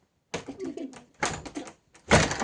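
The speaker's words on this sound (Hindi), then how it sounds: "इतने शोर मचाता ना ये दरवाज़ा" A noisy door in a house being opened: three bursts of harsh rattling and scraping clatter, close and fairly loud, separated by short pauses.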